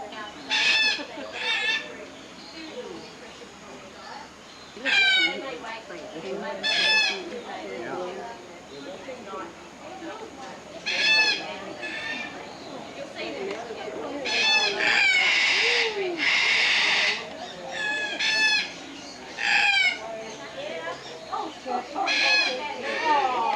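A bird, likely a rooster, gives repeated loud crowing and clucking calls in bursts across the recording, while people talk quietly in the background between the calls.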